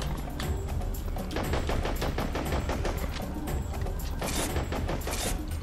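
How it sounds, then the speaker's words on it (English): Automated turrets in the co-op shooter Serious Sam 3 rattle off rapid, steady bursts of gunfire, loud and sustained across the whole stretch, with mechanical clatter beneath and no voices. "Wish the turrets would do their job and destroy the chelop"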